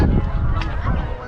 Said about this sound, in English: All the ducks in the whole state are here.